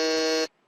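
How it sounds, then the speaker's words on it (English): A quiz-show buzzer at a campus quiz final sounds one loud, harsh, steady electronic tone for about half a second, then cuts off abruptly into silence. "Hands on the buzzer."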